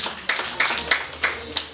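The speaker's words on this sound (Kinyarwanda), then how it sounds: "utyo mumumera amashyi" Several people clap at a wedding in short bursts of sharp claps, spaced at uneven intervals and fairly close, with some faint speech in the background.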